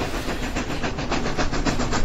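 A small toy coal train runs with a rapid, rhythmic clicking pulse over a steady hiss and rumble, close and continuous for a couple of seconds.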